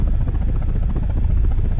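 A helicopter in an attack helicopter video game flies during combat targeting, its rotor making a loud, close, steady throbbing chop that continues throughout.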